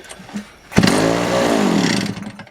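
A Ural motorcycle engine with electronic ignition catches on the first try after standing idle a long time, bursting to life and settling into a loud, steady, close running note before easing off.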